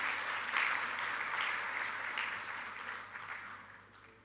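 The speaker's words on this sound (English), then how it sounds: "So big round of applause for my family." An audience at an accountants' conference in Kuwait breaks into steady applause, with dense continuous clapping filling the hall that slowly fades toward the end.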